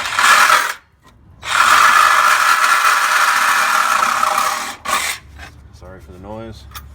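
A blade saws through the metal pinch weld of a 2005–2010 Jeep Grand Cherokee WK, a loud, harsh, continuous rasping grind in two long bursts broken by a short pause, then brief scraping.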